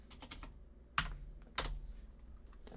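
Keys tapped on a computer keyboard while a file is renamed, a quick cluster of soft clicks and then two louder isolated keystrokes, close and quiet with no speech.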